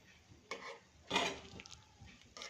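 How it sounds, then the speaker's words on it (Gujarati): A spoon stirring millet flour and gum porridge in a pot, with nut powder added: quiet scraping strokes and soft clinks against the metal, a few separate stirs heard close up with no talking. "આપણે થોડી વાર માટે એને આ રીતે હલાવવો પડશે"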